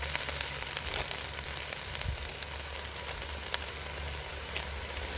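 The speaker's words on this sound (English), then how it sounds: "I've got chopped onions here. This is a 10-ounce pack. It came out of the frozen section. Just going to put that in there." Frozen chopped onions from a 10-ounce pack sizzle and fry in a cast iron pan, a steady, close, bright crackle running evenly throughout with occasional small pops.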